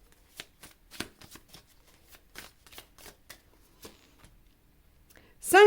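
Tarot cards handled in a quiet room, a run of soft separate flicks and slaps as cards are shuffled and laid down one by one, ending in a louder burst at the close.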